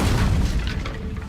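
An Incendio fire spell is cast in the Hogwarts Legacy video game, a loud, dense whooshing boom of flame that fills the whole short moment and slowly thins out toward the end.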